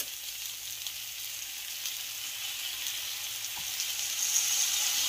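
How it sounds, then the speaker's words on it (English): Teriyaki sauce sizzling steadily in a hot pan with peppers and onions, a bright continuous hiss that swells slightly toward the end, close up and with no talking. "we're going to go ahead and add in that teriyaki sauce"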